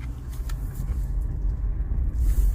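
A car idling after a cylinder 1 misfire repair, a steady, smooth low engine rumble close by, with no one speaking.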